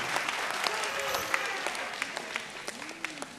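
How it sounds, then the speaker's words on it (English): Fairly soft applause from a studio audience at a Papua New Guinea televised vocal competition finale, steady clapping with scattered sharper claps and faint cheering. "a final round of applause for Telecom PNG"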